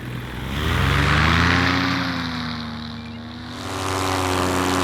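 A model airplane's propeller engine buzzes past close by, its droning pitch sliding downward as it passes and then swelling again as it circles back.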